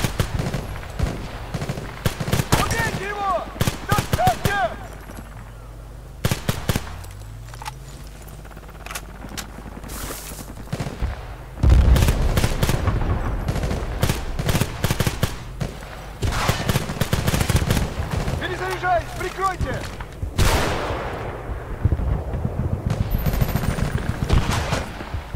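Video game gunfire in dense bursts of automatic weapon fire and single shots, loud and close, continuing throughout with brief lulls.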